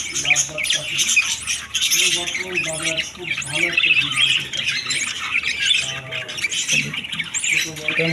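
Pet birds with chicks in a bird shop keep up dense, overlapping squawks and chirps throughout. The calls are loud and close, with faint talk beneath them.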